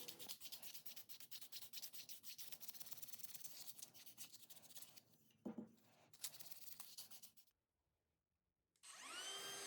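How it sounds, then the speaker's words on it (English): Hand sanding the narrow, end-grain internal cove of a wooden candy jar gives steady scratchy rubbing strokes that run for several seconds, pause briefly, resume, then fall quiet before a final burst of abrasion. "This is a difficult part to sand because a lot of it is end grain and narrow."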